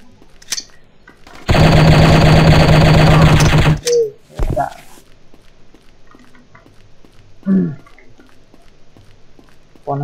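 A loud, sustained burst of rapid automatic gunfire in the Striker shooting video game, running about two seconds, followed by a couple of short sharp shots and faint in-game sounds.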